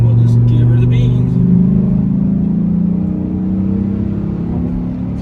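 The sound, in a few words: 2005 Dodge Ram SRT-10 Viper truck accelerating hard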